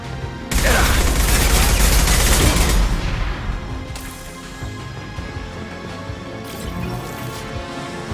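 Dense, close automatic gunfire from a Mass Effect 2 firefight erupts as a long sustained burst, then decays into scattered shots, booming echoes and lingering battle noise.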